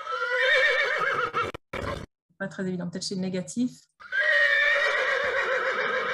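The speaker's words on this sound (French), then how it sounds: "quand vous entendez un hennissement de cheval, je peux peut-être le rejouer" A recorded horse whinny plays back twice, a long, loud, shaky neigh at the start and again at the end, with a person speaking briefly between the two calls.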